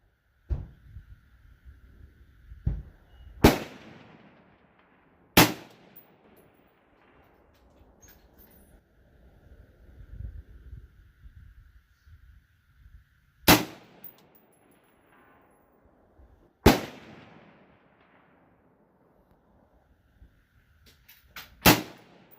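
An Anderson AM-15 AR-15 rifle in 5.56 fires at a 400-yard range, each shot a sharp, isolated crack heard from a distance, several seconds apart over a quiet background.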